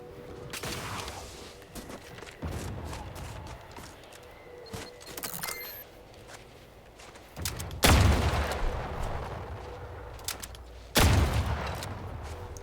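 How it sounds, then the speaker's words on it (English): Explosions and gunfire in the video game The Outer Worlds 2, scattered shots and crackling bursts giving way to two loud, heavy blasts with long rumbling tails. "Love that the explosions don't affect your teammates at all."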